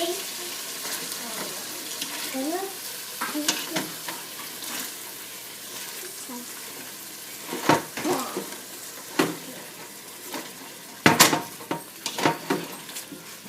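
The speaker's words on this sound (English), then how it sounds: "We're going to put those quarter cup of onions in there right now. Give those a mix in there." Quartered onions and browning meat stirred in a hot pan for green chile, with a steady close sizzle broken by scraping utensil knocks and clatter that grow sharper toward the end.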